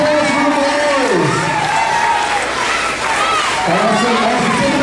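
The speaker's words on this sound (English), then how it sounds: "Round of applause for the boys" A crowd at a 2015 farm talent show applauds and cheers for a boys' act, a continuous roar of clapping and shouts with children's voices. Someone talks loudly over the noise throughout.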